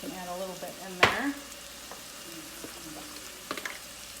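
Taco filling cooking in a pan, a soft steady sizzle with a sharp clatter of stirring near the start and a few more utensil scrapes later, close by and without talk.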